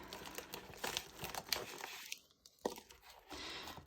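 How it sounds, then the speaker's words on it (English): Scissors snipping and crunching into crinkly plastic packaging, close and fairly loud, with irregular crackling cuts and a brief pause midway before the crinkling resumes. "I might need my scissors."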